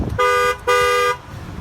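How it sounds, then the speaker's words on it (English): Two short, loud blasts from the horn of a 2019 Chevrolet Colorado extended-cab work truck, the second slightly longer, sounded close by inside the cab. "You got a horn."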